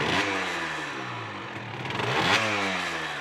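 A Derbi GPR 75cc motorcycle engine, just kick-started, revs up and down close by in two rising surges with a buzzy, rattling mid-pitched tone.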